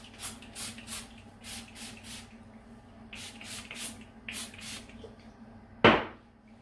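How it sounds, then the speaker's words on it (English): Sea salt hair spray hisses out in a series of short, quiet bursts from a spray bottle, several evenly spaced pumps in two groups, followed by a sharp louder clatter near the end. "sea salt spray."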